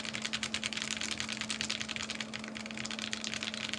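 Typing on an Emery 65 mechanical keyboard: rapid, steady clacking keystrokes, close up and fairly quiet, over a faint constant hum.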